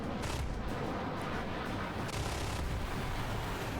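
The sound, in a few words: cannon fire from a jet fighter in the video game War Thunder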